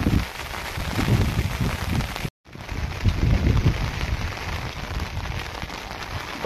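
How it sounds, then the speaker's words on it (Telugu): Heavy rain pours down steadily on village houses, a dense continuous roar broken by one brief cut of silence before resuming just as loud. "ఎక్కడ చూసినా కానీ చుట్టుముట్టు వర్షమే ఫ్రెండ్స్"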